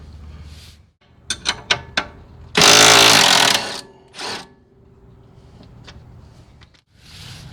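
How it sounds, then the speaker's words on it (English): An impact wrench rattles off a 17mm control arm nut on a Honda during an axle replacement: a few short ratcheting taps, then a loud sustained hammering burst of about a second, followed by lighter clicks and tool handling noises. "Hold one side with a wrench and use your impact on the other side."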